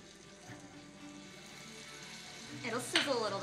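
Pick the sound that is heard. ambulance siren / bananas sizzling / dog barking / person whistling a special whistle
bananas sizzling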